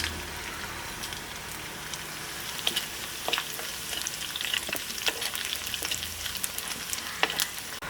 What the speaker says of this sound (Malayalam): അപ്പോൾ ഉണക്കമുളകും കൂടെ ഇട്ട് കൊടുക്കാം.